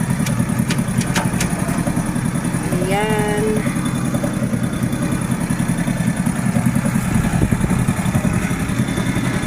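A motorcycle engine idles with a steady, close, chugging rumble throughout, while a person briefly speaks over it.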